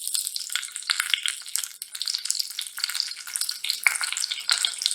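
Finely chopped garlic from two large cloves and six or seven curry leaves frying in hot oil, a steady close sizzle with crackling bursts throughout.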